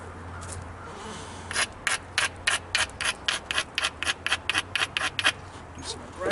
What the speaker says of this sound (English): Do some more grinding.